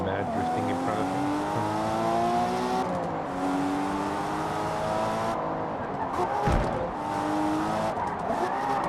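A car drifting in the Forza Motorsport racing game, with a steady loud engine drone and continuous tire squeal that rises and falls across the turns, without any pause.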